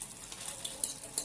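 Kuetiau noodles fry in very hot oil in a wok, a faint crackling sizzle with a few soft stirring scrapes and brief pops over a short stretch.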